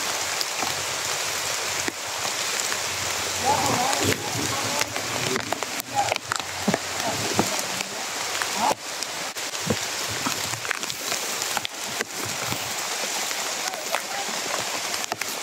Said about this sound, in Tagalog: Umuulan pa naman,